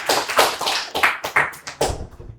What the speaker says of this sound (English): Please give applause for Mr. Azhar